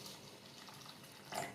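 Flattened rice (poha) being rinsed and washed in water in a kitchen, a steady close watery swish and slosh that swells into a louder splash near the end.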